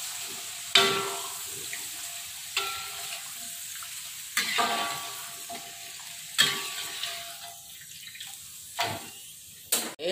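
Potatoes fry in a pan of hot oil for a beef-free egg rendang dish, a steady sizzle broken by several sharp scrapes and clinks as a spatula stirs and lifts them.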